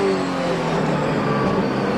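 NASCAR stock car racing through turn 10, a right-hand corner at Infineon Raceway, a steady loud engine drone with harmonic tones that holds level for the full two seconds.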